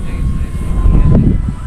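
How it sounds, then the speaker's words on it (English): A Freewing Zeus RC jet on its maiden flight making a slow flyby with landing gear up, a loud rushing ducted-fan roar swelling and passing near, with voices talking over it. "I'm gonna try to do a slow flyby here"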